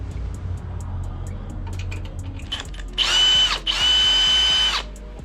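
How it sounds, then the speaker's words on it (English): A power drill bores holes for stealth and center car brackets on an FD2R, with two whining bursts lasting about a second each after quiet handling noises, close and loud. "mark the second one, and drill there."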